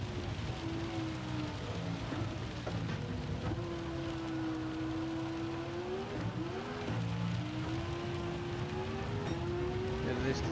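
Steady rain in Gran Turismo 7 at Le Mans, a dense wash of hiss from the wet track blended with a droning race car engine whose pitch rises and falls, while a commentator speaks over it.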